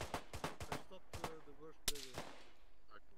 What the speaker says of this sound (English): And it rounds are whizzing past my head.